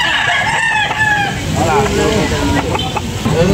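A Pumpkin Hatch gamefowl rooster crows close by, loud calls rising and falling over about three seconds, with voices talking around it.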